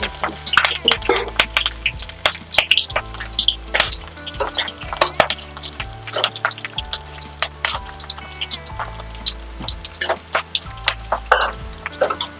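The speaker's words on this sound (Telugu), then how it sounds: "ఫస్ట్ దీన్ని కొంచెం ఫ్రై చేసుకుందాం" Bread pieces for bread biryani fry in hot oil in a pan, giving close, steady crackling and bubbling with scattered sharp pops and drips, no talking over it.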